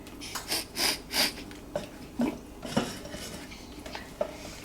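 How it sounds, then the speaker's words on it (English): Butter for brownies being stirred as it melts in a pot, with a series of metallic clinks and scrapes of a utensil against the pot, close and fairly quiet, with a few soft knocks toward the end. "This part you might want to stir because you don't want to burn it."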